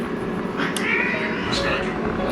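Two house cats meow for food indoors, several short meows scattered over a constant background hum, with a person talking in between.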